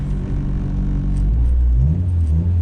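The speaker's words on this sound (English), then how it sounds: "there's nothing like the growl of a B series" Honda Civic EK hatchback with a B-series engine gives a steady low growl and rumble that swells slightly as it pulls, heard close and continuous with no talk.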